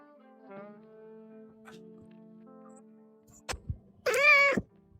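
A pet cat named PJ gives a single loud, drawn-out meow close by, after quieter background tones and a few clicks.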